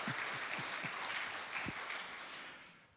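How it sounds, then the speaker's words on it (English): Audience applause at a church congregational meeting, a steady dense clapping from a crowd that holds for about three seconds and then tapers off gradually. "Let's give them a round of applause."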